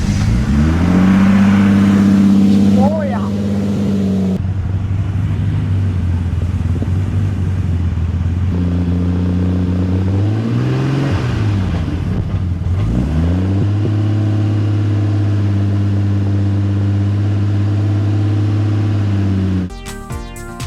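Nissan 240SX engine cranking, catching and idling after a limited-slip differential install, with several blips of the throttle rising and settling back to a steady loud idle close by.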